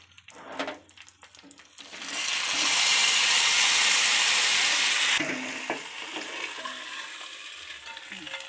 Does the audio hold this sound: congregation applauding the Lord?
no